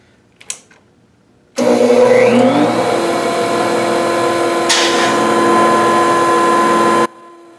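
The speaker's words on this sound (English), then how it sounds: "The pin is going to follow the template, making it almost too easy" A wood router with a template-following pin bit cuts scrap wood for a guitar body, a steady loud motor whine starting abruptly and running continuously for about five seconds before cutting off.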